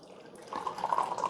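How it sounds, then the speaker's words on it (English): Coffee pouring from the glass carafe of a Ninja DualBrew Pro coffee maker, a soft close trickle of liquid that starts and then runs steadily into a cup. "So let's see how the carafe pours."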